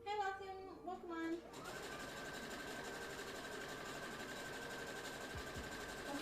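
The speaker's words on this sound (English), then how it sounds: "Oh, Logan has a sewing machine" A sewing machine runs steadily for most of the stretch, a continuous mechanical whir that starts after a second or so of talk and persists at an even level to the end.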